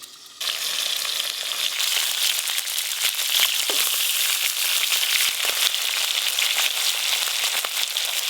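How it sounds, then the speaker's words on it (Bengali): Small fish fry in hot oil, giving a dense, continuous sizzle and spatter that kicks in after a short pause and holds at an even, fairly loud level throughout, with no talking. "দেখতে দেখতে মাছগুলো বেশ ভালো করে ভাজা হয়ে গেল"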